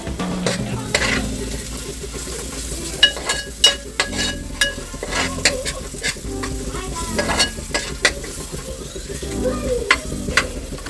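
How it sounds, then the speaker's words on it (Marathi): A spoon scrapes and stirs through turmeric and red masala frying in a pan for prawn curry, with a constant gentle sizzle under repeated clinks and scrapes of metal, close by and with no talking. "हळद घालते मी थोडी कलर येईपर्यंत आता हे छान हलवून घेऊ"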